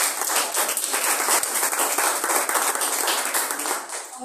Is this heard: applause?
yes